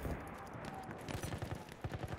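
Rapid automatic gunfire from Battlefield 1 multiplayer, a steady stream of close, loud bursts with regular thumping shots that grow punchier toward the end, set over constant battle noise.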